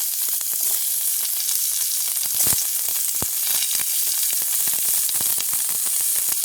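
Dried red chilies, onion and garlic fry in a pan in a village kitchen, making a loud, constant crackling sizzle up close, with quick stirring clicks scattered throughout and no voices.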